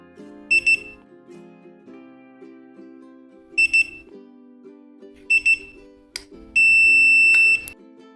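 A remote relay receiver in learning mode gives several short double beeps spaced a few seconds apart, loud and close, ending in one longer sustained beep, over a faint low hum.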